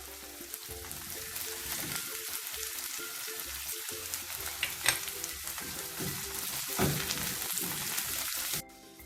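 Onions fry in a pan for potato rice, making a dense steady sizzle with occasional stirring scrapes, close and constant until it cuts off abruptly near the end; no one talks.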